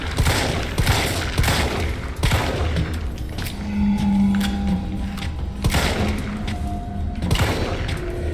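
Gunfire in the video game Resident Evil 3: repeated bursts of shots and thuds crackle throughout, with heavier volleys near the start and end and a steady, loud game-audio bed between them.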